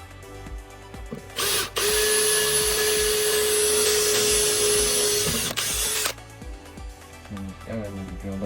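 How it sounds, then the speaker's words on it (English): A power drill whines loudly for about four seconds in one continuous burst, close up, drilling a pilot hole for vehicle rock lights, with a brief spin-up just before and quieter background sounds around it. "Go in with the drill bit."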